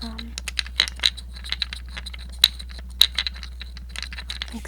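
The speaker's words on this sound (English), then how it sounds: "This is a little tripod. It has little legs so you can push in and out like this." Telescoping legs of a small tripod are pushed in and out, giving faint metallic clicks, ticks and rattles in an irregular run over a low steady hum.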